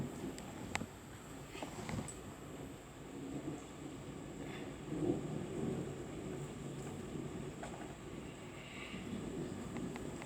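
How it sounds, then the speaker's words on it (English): A low, distant rumble of thunder rolls on quietly for about ten seconds. It is faint and steady, with a slight swell midway. "let's see if the snails like the sound of thunder"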